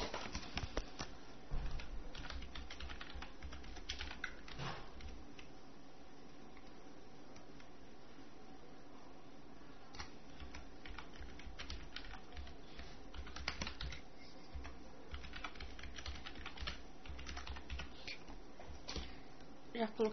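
A password is typed on a computer keyboard in steady, close, light key clicks that run throughout, with a faint voice in the background.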